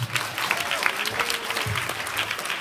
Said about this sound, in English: Please put your hands together for Khalid Jassat.